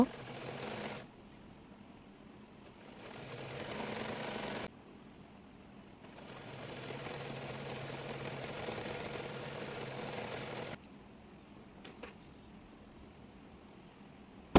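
A sewing machine stitches a petticoat in long, steady motor runs of several seconds each. The brief stops between runs carry soft fabric handling and clicks, all close and moderately loud.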